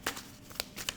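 Tarot cards handled during a reading, a few quick papery riffles and snaps close up within one second, soft and brief with no talk.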